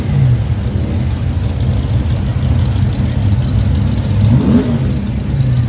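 A car engine at a Friday night car show at Lake George revs and rumbles steadily nearby, a low continuous drone with a brief rise in revs near the end, no talk over it.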